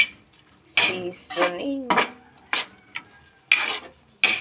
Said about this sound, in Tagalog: Tapos, haluin na.